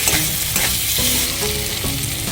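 Spice paste frying in oil for a prawn and banana-flower dish, a loud close sizzle with a spoon scraping and stirring through it in uneven strokes.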